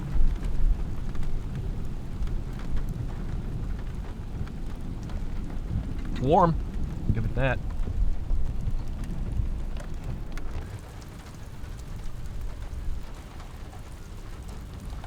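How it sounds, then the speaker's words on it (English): Steady rain hisses throughout, with a brief tonal whine in the middle and a voice speaking softly under the downpour. "Stop raining for just a minute"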